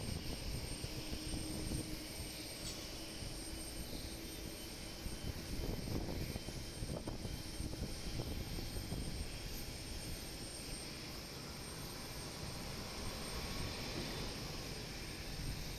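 Airliner engines spooling up on the ground at Osaka Itami Airport, a loud, steady broadband roar with a high whine sustained throughout.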